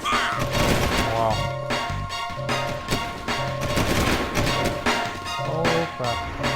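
Rapid bursts of video game gunfire in Jak 2 on PS4, dense and continuous with repeated sharp impacts layered over music and game noise, with a voice speaking briefly.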